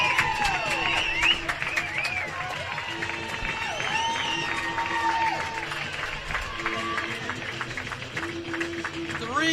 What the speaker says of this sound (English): a roar from the hometown crowd